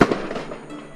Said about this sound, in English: Makoto stands beside Konami, both looking up at the fireworks with smiles on their faces.